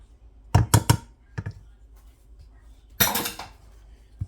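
A spoon clinks and scrapes against a bowl while sour cream, salsa and paprika are mixed together, with a cluster of quick knocks followed by a louder burst of scraping.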